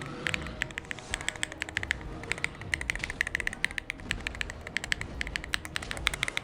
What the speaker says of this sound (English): A quick little keyboard ASMR.